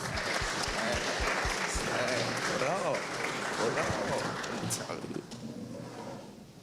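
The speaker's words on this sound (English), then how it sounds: "Let's give a round of applause to the Burt T Falcons." Applause at a high school football media day for the Burt T Falcons team, a dense clapping wash that fades toward the end, with voices underneath.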